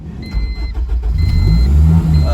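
A Honda Civic with a swapped K20Z1 engine runs close by, a loud, steady low rumble with a faint high whine above it, idling evenly without revving.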